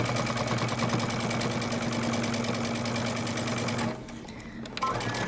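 A sewing machine backstitches a seam on a romper, running with a fast, steady mechanical whir and rhythmic needle chatter for about four seconds before stopping, followed by a few faint handling clicks.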